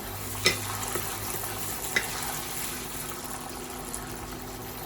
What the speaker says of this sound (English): To this, we'll add our garlic and ginger. Let these all cook and get fragrance.